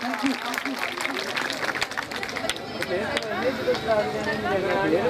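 Audience applause at a school annual ceremony: sustained clapping from a crowd runs the whole time at steady loudness, with a background hubbub of voices.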